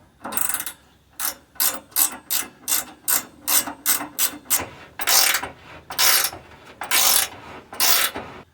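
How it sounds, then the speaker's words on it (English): Bolts are driven into a crawler with a ratchet wrench: about a dozen evenly spaced, loud clicking strokes sound up close, with no voices. "I'm gonna try to get some bolts in this thing."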